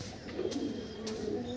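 Pigeons coo in a loft, their soft, rolling calls rising and falling in a steady low murmur, with a couple of brief flutters or clicks breaking through.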